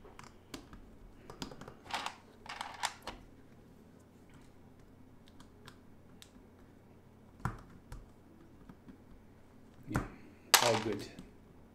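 Keycaps on a mechanical keyboard pressed and clicked close up, scattered clusters of sharp clacks and taps separated by quiet pauses, with a louder burst of clatter near the end.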